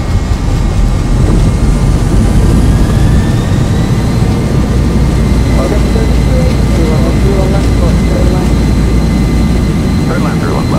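An A320 airliner's jet engines roar during a takeoff roll in a flight simulator, a loud, unbroken rumble with thin rising whine tones, and voices in the mix.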